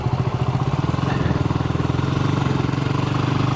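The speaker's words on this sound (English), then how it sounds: "And now you're in second gear, and you're cruising around." Motorcycle engine running in second gear while cruising, a loud, steady rhythmic low-pitched thrum with even pulsing firing beats, close up.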